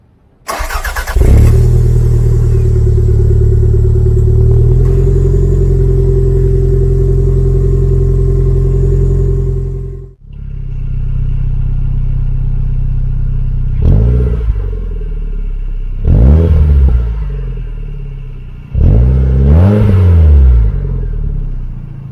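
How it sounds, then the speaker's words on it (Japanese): A Toyota MR2 Turbo SW20 sports car idling and revving through an aftermarket exhaust, starting with a crank and catch, settling into a deep steady idle, then three sharp blips of the throttle rising and falling near and loud. "という型出しのマフラーにしていますが、重低音が効いて体に響く、とてもいい音がします。"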